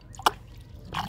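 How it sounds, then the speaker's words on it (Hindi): Water is poured a little at a time into a dry potted plant, giving a few soft drips and splashes that are faint and close, with quiet pauses between them. "तो मैं ना इसमें थोड़ा सा पानी डाल देती हूँ,"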